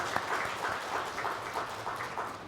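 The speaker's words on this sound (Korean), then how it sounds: "박수하겠습니다." A church congregation applauds its choir after the Sunday worship praise, a steady wash of hand claps at moderate level lasting the whole moment, with no voices over it.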